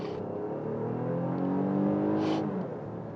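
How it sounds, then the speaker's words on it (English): Infiniti QX60 Autograph SUV with a 9-speed automatic accelerating from inside the cabin, a steady engine drone rising in pitch with a gear change partway through, moderately loud and continuous. "Let's lean into the throttle a little bit."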